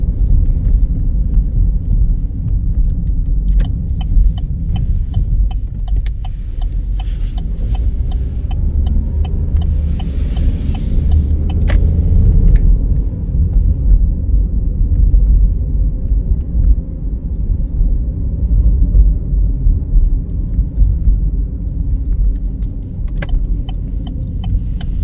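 A car drives along winter roads in the USA, its steady low engine and tyre rumble filling the whole stretch with a continuous road roar, faint clicks and ticks sitting lightly on top.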